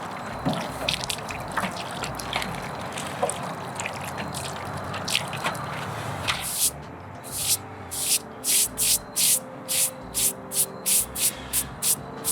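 Water rinsing a marble headstone during outdoor cleaning: a steady spray and trickle wash at first, then a series of regular, spaced splashing pours, close and fairly loud, with no talking.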